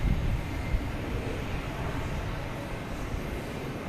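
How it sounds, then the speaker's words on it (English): A Southwest airliner coming in from Dallas to Boston Logan makes a steady, broad jet roar. It holds at an even loudness for the whole stretch with no voices over it. "We got Southwest here coming in from Dallas."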